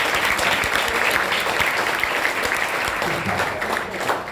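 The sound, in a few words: audience applause at a motivational class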